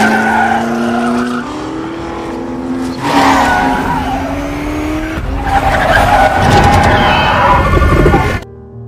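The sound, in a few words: Ford race car being test driven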